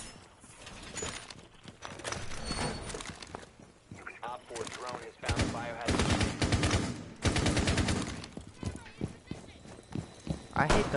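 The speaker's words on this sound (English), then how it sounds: "I hate the noise of the frost gun" Rapid bursts of video-game frost gun fire repeat in loud clusters, layered with game effects and voices talking throughout.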